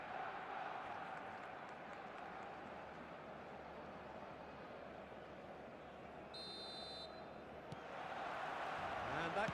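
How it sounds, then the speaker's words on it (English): Steady roar of a full stadium crowd in the eFootball mobile football game, a dense continuous wash of noise that swells slightly near the end, with a short electronic tone partway through. "The stadium is full of noise and energy."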